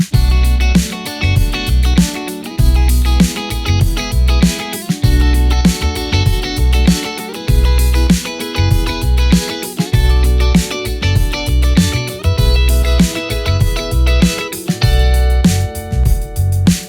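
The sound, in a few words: guitar playing triad inversions with accents, effects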